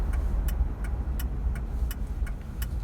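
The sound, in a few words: Ford Crown Victoria car driving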